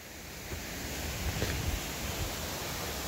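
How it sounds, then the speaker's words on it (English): Falling Springs, a 45 ft waterfall in Pennsylvania, heard as a steady broadband rush of falling water from a roadside overlook, continuous and even throughout with no talk. "listen to the waterfall."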